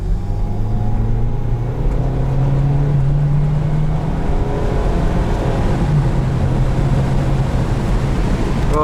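A 2008 Acura RDX turbo SUV accelerating at full throttle, heard from inside the cabin as a loud, steady engine roar with rising tones through the gears, continuous and with no talking.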